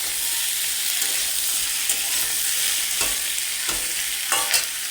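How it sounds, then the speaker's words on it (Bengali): Garlic, onion, chili and tomato fry in hot oil with a steady close sizzle, while a few sharp scrapes and taps of stirring break through. "রসুন, পেঁয়াজ, লঙ্কা, টমেটো সব দিয়ে এখন এগুলো ভাজবো"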